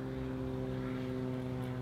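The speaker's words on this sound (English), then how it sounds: "The plane, bud, the plane." A propeller airplane drones steadily overhead, a constant low hum with no voices.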